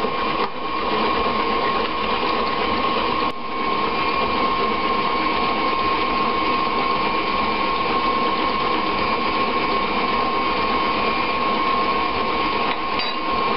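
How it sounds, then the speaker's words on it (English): Electric mixer beating batter with brown sugar and eggs for homemade protein bars, a steady loud motor whine running continuously with no pause. "you are going to want to beat it all together so it'll be nice and smooth"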